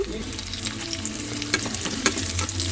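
Large chunks of onion sizzle in hot oil, a steady frying crackle broken by occasional utensil clinks and stirring scrapes, close and alone.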